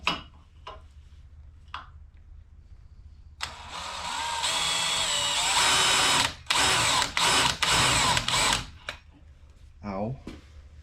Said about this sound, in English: I'm going to start with a smaller screwdriver bit, drill bit.